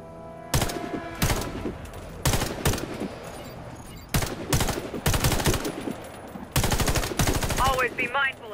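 Gunfire at targets in the video game Warface comes in repeated sharp automatic bursts of several shots each, loud and close, separated by brief pauses, with faint speech near the end.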